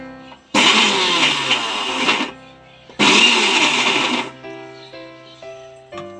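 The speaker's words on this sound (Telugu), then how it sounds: "ఇప్పుడు మనం మెత్తగా పేస్ట్ కింద మిక్సీ చేసేసుకుందామండి" A kitchen mixie grinds onion and tamarind into a paste in two loud whirring bursts, each about two seconds long with a brief pause between them, followed by quieter steady humming.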